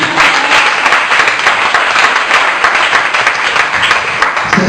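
Loud, steady applause from an audience, dense clapping sustained throughout without a break.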